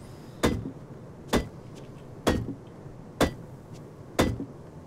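Five evenly spaced hammer strikes in the video game Rust, each a sharp, fairly loud impact with a brief ringing tail, repeating about once a second over a low background hiss with no talking.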